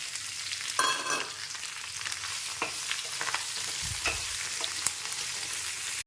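Green chillies, a large onion and curry leaves fry in hot oil with cumin and mustard seeds, giving a continuous bright sizzle broken by a few scraping stirs and clinks of the spoon.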